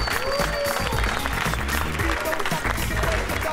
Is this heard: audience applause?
yes